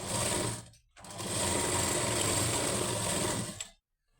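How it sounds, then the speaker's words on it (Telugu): A sewing machine stitches a blouse lining in a steady close whir, running briefly, pausing for a moment, then running continuously for nearly three seconds before stopping. "ఇలా రిటర్న్ వేసుకొని పైన ఒక స్టిచ్ వేసుకోవాలి"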